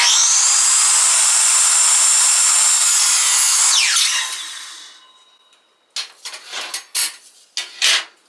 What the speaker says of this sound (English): I'm just going to take the edge of my miter right through that.